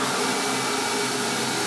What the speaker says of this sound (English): And now I've drilled a hole that's slightly bigger.